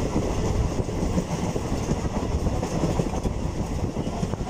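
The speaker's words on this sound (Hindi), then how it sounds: "हाँ, अभी ट्रेन पे बैठा है लालगुला एक्सप्रेस।" The Lalgola Express passenger train rolls along on the way home from Kolkata, heard from on board as a steady loud rumble with rattling carriages and rhythmic clickety-clack of wheels on the rails.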